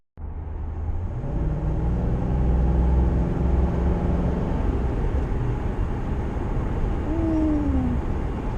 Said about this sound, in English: And just that little much just made this engine roar.